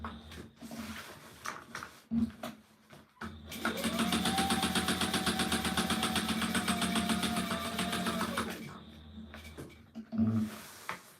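Sewing machine stitching a chest rig: a steady mechanical whirr runs for about five seconds in the middle, with quieter handling noises before and after.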